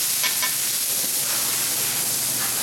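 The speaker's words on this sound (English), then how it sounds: "See what this looks like real quick, how it sears up." Steady loud sizzling of a fish fillet searing in a hot pan, a continuous hiss with faint crackles and no voices.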